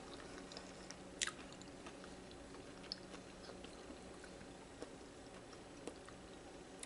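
A bite of cheesy low carb pasta bake chewed close up, soft quiet mastication with a few faint clicks and squishes over a steady background hiss, no talking.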